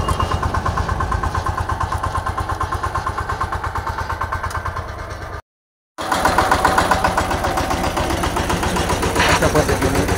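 The engine of a power trailer inter-cultivation implement runs with a steady, close mechanical throb; it cuts out for about half a second, then resumes at the same level.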